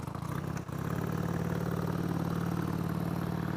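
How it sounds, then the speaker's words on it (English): A 2001 Harley Davidson Sportster 883 engine idles while warming up, a steady, close rumble with an even lumpy pulse and a faint clatter, heard alone after a brief dip near the start. "You gotta give it a good 10 minutes, just warming up before you can ride off."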